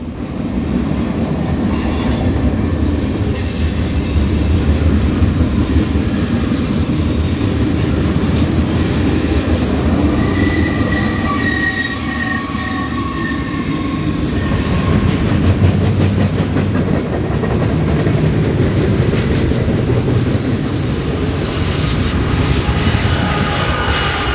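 A freight train with a distributed power unit passes at speed along Arizona's Route 66, a loud continuous rumble of wheels with clickety-clack and faint squeals throughout, close by and without talk.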